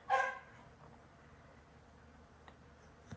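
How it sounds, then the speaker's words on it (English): A single loud bark from a dog in a home craft room opens, followed by quieter background noise and a faint distant yelp near the end. "there go the dogs"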